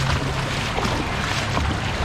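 Feet sloshing through deep flood water on a street in Pattaya, a continuous churning splash and rush close to the microphone with some wind noise.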